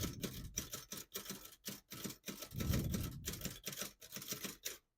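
A 1934 Remington Noiseless Portable typewriter types in red ribbon, producing rapid muffled keystrokes in steady bursts separated by short pauses, fairly quiet and close.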